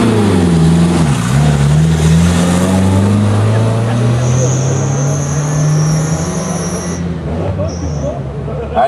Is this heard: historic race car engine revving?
yes